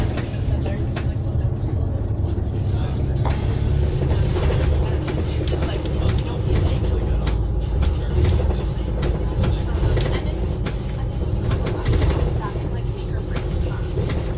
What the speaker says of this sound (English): There goes the 500 Enviro on 404 Ordze Transit Center